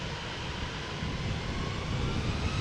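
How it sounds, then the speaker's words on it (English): An Embraer jet taxiing slowly ahead at Amsterdam Schiphol Airport on a crosswindy day, giving a steady, moderately loud engine rumble and whine that holds level with slight swelling, with no talk. "the Embraer that was holding short earlier, but is now creeping ahead,"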